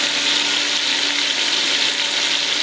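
Chopped tomatoes fry in a hot pan for a vegetable dish, giving a steady, loud, broadband sizzle with no pauses and no talking.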